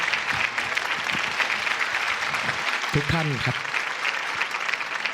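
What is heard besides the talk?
audience applause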